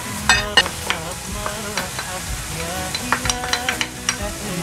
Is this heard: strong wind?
no